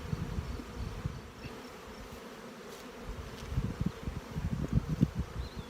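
Honey bees hum in a low, steady drone during a spring hive brood inspection, a close, soft buzzing swarm that swells and thickens toward the end, with no talking.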